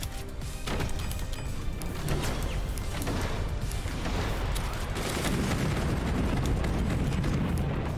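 Swarm missiles launched in the strategy game Forts, a dense, continuous barrage of booming explosions and crackling blasts that stays loud and steady throughout with no pauses.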